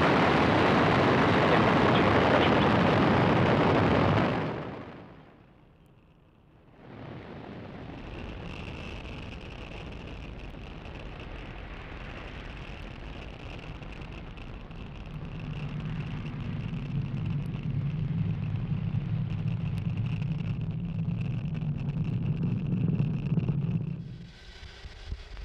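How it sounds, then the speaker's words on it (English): A rocket launch thunders at lift-off, opening with a loud broadband blast that cuts out briefly, then settles into a long, steady distant roar with a deepening low rumble before fading near the end. "lift off. Vehicle is pitching downrange."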